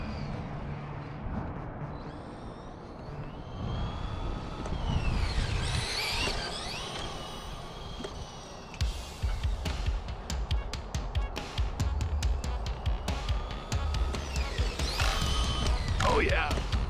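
An HPI RS4 Sport RC car driving and drifting, its electric motor whining up and down in pitch as the throttle changes, with scrappy tire and gravel crackle and possible voices in the background.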